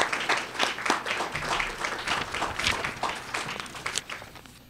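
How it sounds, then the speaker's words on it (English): A Hall of Fame ceremony audience claps in a dense, lively burst of hand claps that runs for several seconds and then tapers off. "So let's give them a big round of applause."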